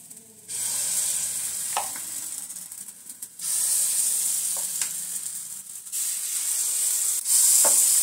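Batter sizzles loudly in a ghee-greased pan, hissing in bursts that start, briefly die down and then flare up again, close and clear with no talking.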